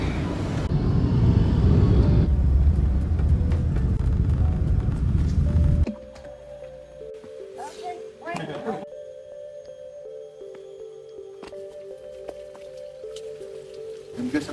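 Car interior on a drive in Bali, a loud low road rumble for several seconds that drops off abruptly, followed by quieter cabin ambience with faint clicks and tonal hums.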